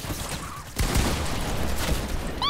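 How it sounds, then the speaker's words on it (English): Shotgun blasts from a video game, tuned to resemble Apex Legends weapons: a few sharp booming shots a second or so apart over a continuous game-sound bed, loud and close, ending in a short rising whistle-like tone. "Made their shotguns kind of sound like Apex's."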